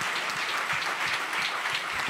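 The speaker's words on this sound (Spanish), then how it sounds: "denle el aplauso fuerte al Señor" Loud, sustained applause fills a church worship service, steady clapping from a congregation with no voices standing out.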